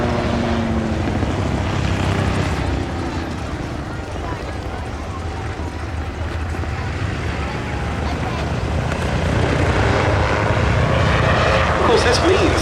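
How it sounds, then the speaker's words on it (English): An autogyro flying at an air display, its engine and rotor giving a steady droning hum, at moderate distance, under continuous commentary from someone talking. "it's possible to fly an autogyro such as this from an extremely small field"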